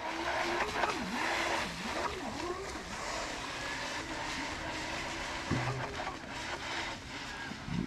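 A model jet boat with a servo-adjusted trim nozzle runs steadily across slightly rippled water, its whining motor rising and falling in pitch several times near the listener, with wind and water noise throughout.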